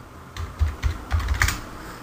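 A few keystrokes on a computer keyboard entering a shortcut, five or six quiet clicks in quick uneven succession, close and alone.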